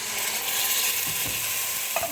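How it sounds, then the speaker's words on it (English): Constant crackling sizzle of canned petite diced tomatoes in tomato juice in a pot, with a few soft clinks and scrapes of stirring in the middle and near the end. "Listen to the sizzle. I mean, it's got the sizzle going."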